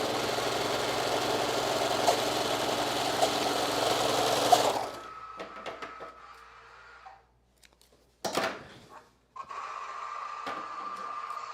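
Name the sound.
sewing machine hemming a garment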